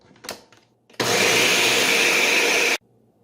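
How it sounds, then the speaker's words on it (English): A kitchen blender whirs loudly at full speed through oats and other protein pancake batter ingredients, starting abruptly after a brief rustle and running steadily for under two seconds before cutting off. "I'm just going to blend everything up together"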